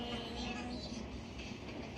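A steady rumbling hum of a train in motion, heard from inside during an overnight journey, with constant low mechanical noise and a faint rattle throughout.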